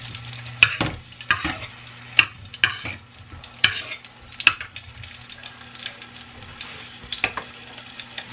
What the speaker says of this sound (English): just gonna fry up this jalapeno